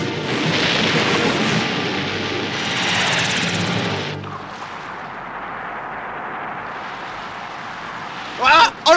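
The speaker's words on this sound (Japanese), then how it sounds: "何かの海底爆発かもしれん" Undersea explosion in an Astro Boy cartoon: a loud, sustained roaring rumble that fades after about four seconds into a quieter underwater wash, followed by brief animated voice sounds at the end.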